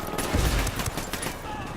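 Rapid gunfire crackles in Ghost Recon Wildlands, a short close burst of shots with a low thump, heard in a brief moment of game action.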